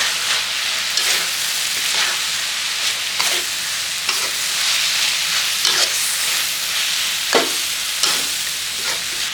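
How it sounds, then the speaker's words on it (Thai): Liver, onion and red chili stir-fried in a pan for a curry-powder dish, giving a steady close sizzle with repeated scraping strokes of the spatula at an irregular rhythm, no talk. "ผัดคลุก"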